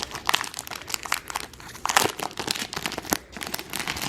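Thin cellophane wrapping on a planner sticker order is handled up close, crinkling and rustling continuously, with sharp crackles throughout.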